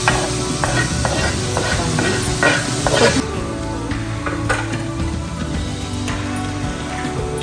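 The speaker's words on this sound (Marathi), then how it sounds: "त्याच्यामध्ये फ्राय करून घेऊया तेलामध्ये" Malvani masala and chilli powder frying in oil with tomato for a Konkani crab curry, a loud close sizzle with a spoon scraping and clinking against the pan in quick strokes.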